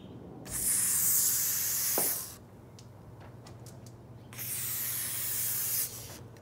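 A silicone spray aerosol can sprays in two sustained hissing bursts, close by, onto a sliding patio door's weather seal, separated by a pause with a few small taps.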